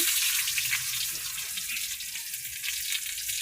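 Onions frying in a pan while cooking a fish curry: a continuous bright hiss and crackle of oil, steady and close, with no talking.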